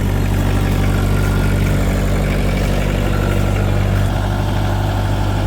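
A diesel engine idles steadily right after a cold start on glow plugs, a loud, close, even low rumble with constant vibration that holds unchanged throughout, with no talk.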